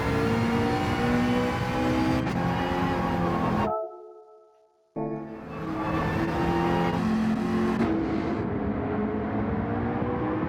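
A race car runs at full throttle down the long start-finish straight at Fuji in an endurance race, the engine droning loud and steady with rising pitch, briefly cutting out before roaring back on.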